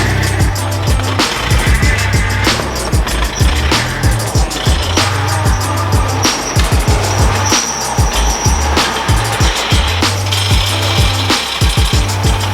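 A K20-swapped Honda Civic sleeper with a harsh clutch, its engine droning loud and steady throughout, with a rattling, grinding clatter pulsing over the low rumble in a rough, rapid rhythm.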